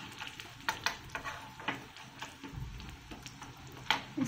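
Broken dried red chillies being stirred in hot tempering oil for a tomato rasam, with soft scraping and steady sizzling crackle, close and fairly quiet, no voices.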